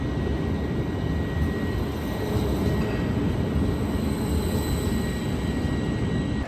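A double-decker train rumbles at a station platform on a Munich to Vienna rail journey, giving a steady, loud, broadband roar with a faint high whine that holds throughout, with no voices.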